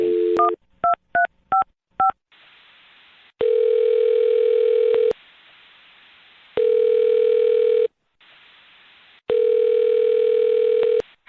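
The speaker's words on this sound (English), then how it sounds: "I'm going to dial her phone number right now" Touch-tone telephone dialing a number: a short tone, then a quick series of distinct DTMF key beeps, followed by three long, loud steady ringback tones separated by quiet gaps, clear and close.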